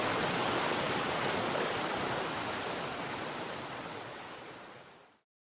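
Steady, broadband rush of flowing water, continuous and full, slowly easing off before cutting out at the end.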